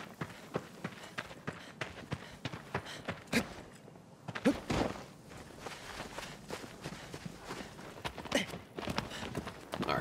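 Horse hooves galloping in Shadow of the Colossus, a steady run of close, loud, rhythmic hoof thuds lasting throughout, with a few heavier thumps in between.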